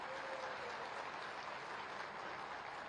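A rally crowd gives sustained, even applause in welcome of Yogi Adityanath, heard as a quiet, steady wash of clapping with no talking.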